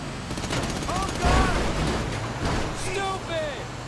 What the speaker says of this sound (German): Wer ballert da schon wieder rum?